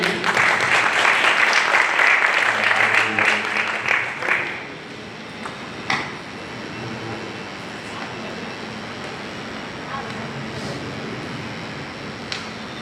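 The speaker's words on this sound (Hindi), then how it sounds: "परमेश्वर के जोरदार हम ताली बजाएंगे।" A church congregation in Patna claps loudly during a Passion Week service, a dense burst of applause lasting several seconds before fading into scattered claps and quiet room noise.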